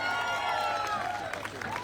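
An indoor audience at a gathering in Gaya, Bihar claps steadily throughout, a dense wash of applause with scattered cheers under a loud amplified voice.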